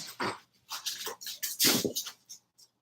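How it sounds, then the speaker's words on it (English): A pet dog barks several times in quick, sharp bursts indoors, fairly close, with short pauses between the yaps. "my dog is barking again"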